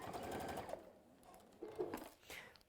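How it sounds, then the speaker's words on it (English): A domestic sewing machine stitches fabric in a steady whirring run, pauses, then starts up again in shorter bursts at close range, with no talking. "And nearly managed to sew all the way past it."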